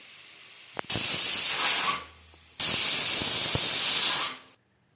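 A pressure cooker blows two loud, close bursts of steam, each a harsh, steady hiss lasting over a second, with a short quiet gap between them and silence at the end.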